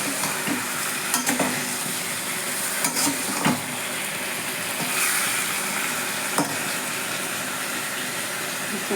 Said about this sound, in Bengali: চিংড়ি মাছ ভাজছি।